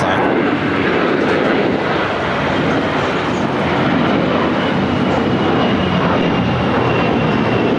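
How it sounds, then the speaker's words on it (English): An Air Canada Airbus A321 takes off from the south side at Los Angeles International Airport, producing a loud, sustained jet engine roar with deep rumble that stays steady and near for the whole stretch. "Air Canada A321 taking off here on the south side."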